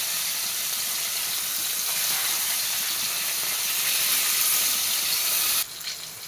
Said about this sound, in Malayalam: ഒരു ചീനച്ചട്ടി എടുത്തിട്ട് വെച്ചു, ഓയിൽ ഒഴിച്ച് കൊടുത്തു. ഇതൊന്ന് വറുത്തെടുക്കണം.